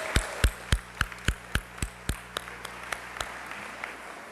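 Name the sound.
audience applause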